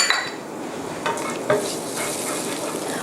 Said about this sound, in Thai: ใส่น้ำมันพืชนะคะ ลงไปในกระทะ หลังจากนั้นก็ตามด้วยเครื่องที่โขกไว้ รากผักชี กระเทียม พริกไทยนะคะ